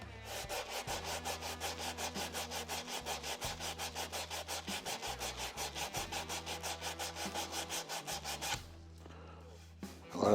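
Wood being sanded by hand on an electric guitar body, a steady rapid back-and-forth rasping of even strokes that runs for about eight seconds before stopping, with no talking.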